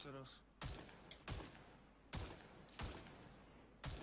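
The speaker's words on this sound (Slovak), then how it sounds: "teraz strieľa len tak a zasa beží ďalej" Gunfire from a bot in the video game Ring of Elysium: about six loud, separate shots cracking at uneven intervals, with someone talking between them.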